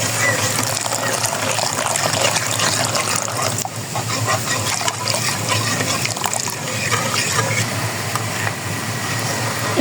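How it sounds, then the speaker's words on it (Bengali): Rice flour mixed with water is poured into a pitha batter of jaggery and water, giving a continuous wet, trickling pour with faint splashes at close range. "এই যে চালের গুঁড়ার জল মিলিয়ে এটা দিয়ে দেব"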